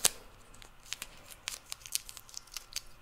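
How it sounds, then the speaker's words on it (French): Adhesive tape torn from a roll and pressed down for a Christmas plush-toy craft: a loud crisp rip at the start, then a quick run of short, sharp crinkling tears and taps, close and quiet, no speech. "On va venir mettre un collant qu'on va retourner pour qu'il puisse coller des 2 côtés."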